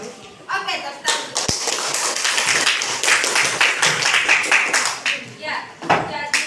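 A classroom group claps during a lesson on the parts of a book, a burst of uneven hand claps mixed with voices and shuffling, rising and fading over several seconds.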